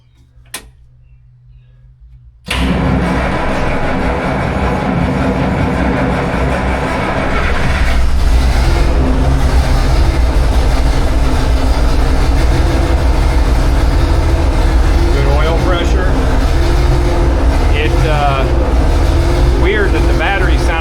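A Minneapolis Moline A4T tractor engine cranks over and catches after a quiet start, then settles into a loud, steady low running rumble that continues for the rest of the stretch.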